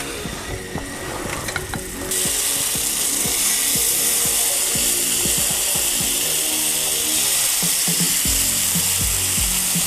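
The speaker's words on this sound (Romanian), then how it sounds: "să ungem o tigaie grill cu puțin ulei și să adăugăm aripile noastre marinate" Spicy marinated chicken wings hit an oiled grill pan and burst into a loud, steady sizzle that keeps going close by, after a couple of seconds of clinking and handling sounds.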